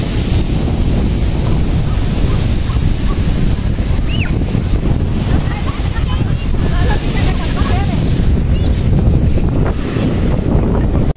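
Constant roar of strong surf and wind buffeting the microphone on a beach, with heavy waves rolling in close by and faint voices underneath.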